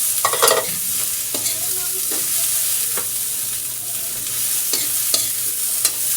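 Vegetables for a shrimp chop suey are sautéed in a pan. A loud, continuous sizzle runs throughout, with a few sharp scraping strokes of a spatula near the start and end, and nobody speaks.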